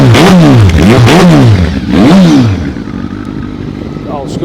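A Kawasaki ZX-12R 1200cc motorcycle with the baffle fitted in its exhaust revs loud and close in three sharp rising-and-falling blips, then drops to a steady idle.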